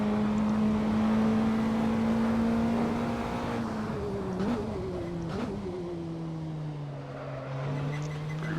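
Praga R1 race car engine in Assetto Corsa drones at a steady, loud pitch that dips slightly mid-run, with brief tyre noises and shifts in tone as the car works through corners; no speech.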